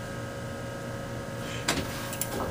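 An elevator door bumper moves in an office building, giving a steady mechanical hum followed by a couple of brief, sharp knocks and rattles near the end.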